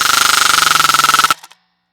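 A .50 caliber machine gun fires from atop a damaged armored vehicle in a fast, steady stream of loud, close rounds for over a second, then stops abruptly with a couple of brief fading echoes.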